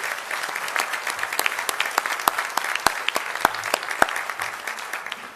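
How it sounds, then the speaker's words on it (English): An audience at a North Carolina US Senate primary debate applauds the hosts from Hepzibah Baptist Church, sustained, fairly loud clapping with crisp individual claps standing out, continuing evenly throughout. "If you would give them a round of applause"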